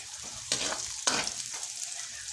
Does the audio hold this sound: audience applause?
no